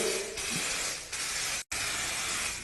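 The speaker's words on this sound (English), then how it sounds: "It is now time to clear coat this thing with the best of the best 2K Clear from Spray Max." Spray Max 2K clear coat hisses steadily from an aerosol can onto a forged carbon fiber engine cover, a loud continuous spray with one brief break near the end.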